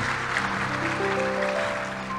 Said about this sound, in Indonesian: Boleh berikan tepuk tangan yang paling meriah buat Tuhan.